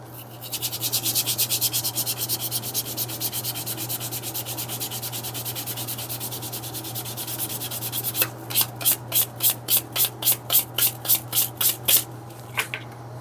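A leather edge is sanded with 400 grit sandpaper in fast, rhythmic back-and-forth strokes, close and steady. Near the end the strokes turn slower and more distinct, with a low hum underneath.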